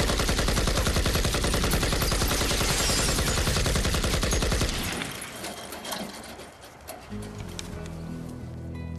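Three machine guns fire together in a dense, continuous rattling burst, loud and close for several seconds, then cut off, leaving scattered echoes and faint clatter.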